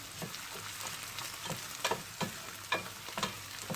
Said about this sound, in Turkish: Soğanlarımız kavruldu arkadaşlar. Biberlerimiz, soğanlarımız.